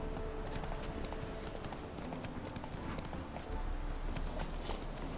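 Roach the horse walks in The Witcher 3 with a steady, close clip-clop of hooves in an even rhythm over faint background ambience.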